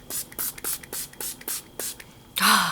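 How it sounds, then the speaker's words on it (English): Rapid, evenly spaced hisses of a mist spray bottle pump about nine times up close, followed by a quick breathy exhale. "spray it all over our face"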